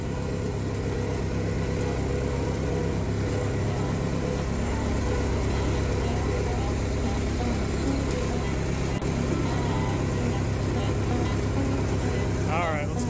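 Small lawn mower engine converted into a race mower idles at low RPM in first gear, a steady, close, even rumble running throughout with no breaks.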